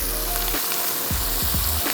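Chicken breast sizzles steadily in a hot, non-stick pan, with a dense frying hiss throughout and several soft thumps and scrapes as the pieces are flipped and moved around, close and loud with no talking.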